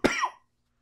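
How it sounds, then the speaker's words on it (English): One short, sharp cough from a man, close and dry, cut off quickly and followed by silence. "Oh, my cough."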